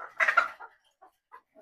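Fayoumi chickens kept in a farm cage give a quick burst of clucks followed by a few soft, spaced single clucks in an otherwise quiet space.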